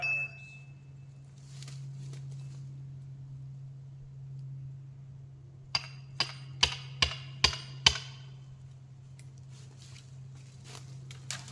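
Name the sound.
sledgehammer hitting a wedge into a log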